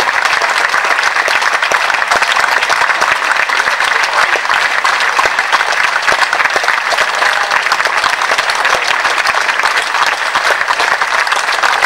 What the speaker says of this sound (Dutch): Dus grote applaus voor de sponsors.